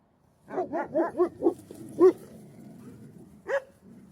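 A dog barks in a quick run of five or six sharp barks, then one more bark and a final yelp after a pause, close and loud, in a garden.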